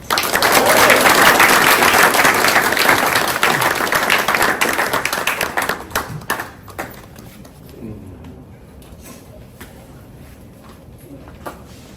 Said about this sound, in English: Appreciate y'all clapping before I've done anything.